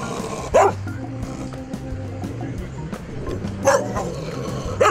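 Stray dogs on a city street barking in a few sharp, separate bursts at middle distance over low background noise.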